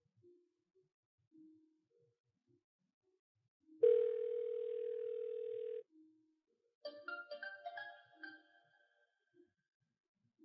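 A mobile phone rings in a home during a Nollywood domestic drama: first a steady electronic tone for about two seconds, then a short, bright melodic ringtone phrase, both fairly quiet with near silence around them.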